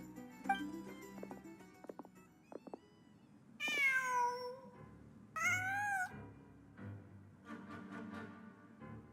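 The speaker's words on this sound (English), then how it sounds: "Just a cat." A video game cat meows several times, distinct drawn-out calls separated by pauses over quiet ambient background, with faint tapping and soft clicks between meows.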